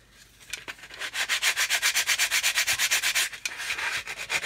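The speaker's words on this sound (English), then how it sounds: "Okay, and then I'm going to take a coarse sanding stick." A coarse sanding stick rubs on a plastic model part with quick, even back-and-forth strokes, about two or three a second. The scraping is close and steady and has no talk over it.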